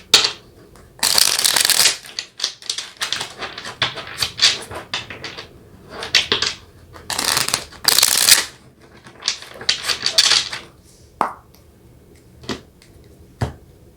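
Tarot cards being shuffled by hand, close and crisp: bursts of riffling and sliding cards in uneven rounds, separated by softer taps and pauses, with no talking.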